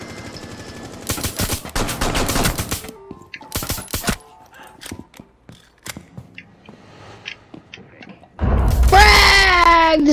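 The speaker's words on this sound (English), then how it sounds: "I hear those shots" Gunshots in a Rainbow Six Siege style tactical shooter game, several sharp bursts of rapid fire early on with scattered single shots after, then a loud sustained noisy stretch near the end.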